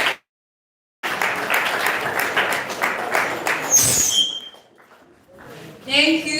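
Audience applause at an entrepreneurial summit after a talk, a dense burst of clapping lasting a few seconds, then fading into room noise with a voice starting at the end.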